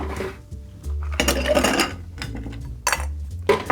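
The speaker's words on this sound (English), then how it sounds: "Grab some ice." Ice cubes clatter into a cocktail glass for a gin Hanky Panky, several bursts of hard clinking and rattling with short pauses between, close and fairly loud, with no voices.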